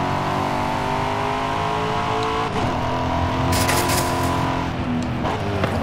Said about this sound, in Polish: posłuchamy samego samochodu